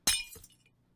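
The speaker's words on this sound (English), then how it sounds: "you just can't tell me that's not a pitch down Minecraft glass" A pitched-down Minecraft glass-breaking sound effect: one sharp crash followed by a smaller second shatter that fades quickly to silence.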